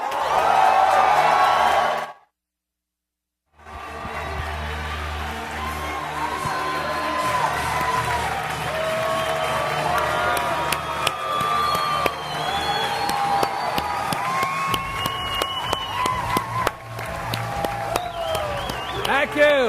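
A large audience applauds and cheers as Robert Kiyosaki takes the stage, a sustained wash of clapping with whoops and shouts, resuming loudly after a brief silent gap and continuing throughout.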